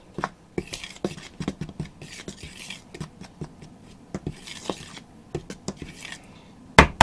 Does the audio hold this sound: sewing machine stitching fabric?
no